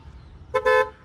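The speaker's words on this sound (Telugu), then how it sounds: "అగో హారన్ కొడుతున్నాడు" A car horn gives two short honks in quick succession, fairly close, over quiet background noise.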